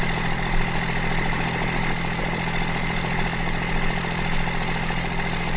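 The struggling motor of a Ram T-Rex recovered from a pond runs rough and steady nearby, a continuous buzzing idle with no speech over it.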